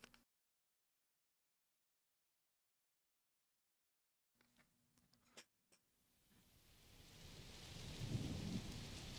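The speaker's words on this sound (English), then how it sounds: "Thunder. The storm is here." Rain and rumbling thunder open the intro of a song: after a silent gap and a few faint clicks, a rain hiss swells steadily louder with a low thunder roll building near the end.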